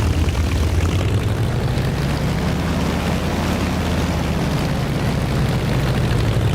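Lavochkin La-7 propeller fighter engine in the DCS flight simulator, a loud, steady, unbroken drone with a deep low rumble throughout.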